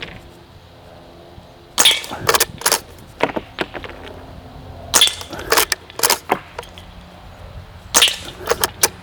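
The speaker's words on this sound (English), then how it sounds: "I'm gonna try and shoot that one on its end." A Umarex Legends Cowboy shell-ejecting CO2 BB rifle fires in three bursts, each a sharp near crack followed by quick metallic clicks and clatter from cycling the action and hitting targets, with no talk.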